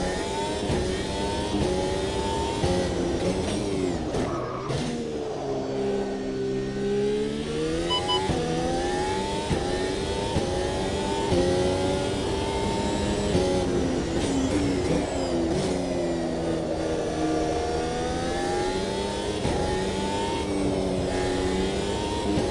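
A race car on slick tyres drives a track, its engine revving up and down in repeated sweeping surges, loud and close, with no pauses throughout.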